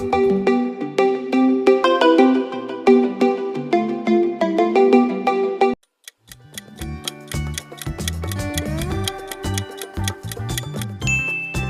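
Realme mobile phone ringtone: a dense, bright electronic melody that runs for several seconds, pauses briefly, then gives way to a rhythmic, chiming sequence with sharp ticks, loud and close.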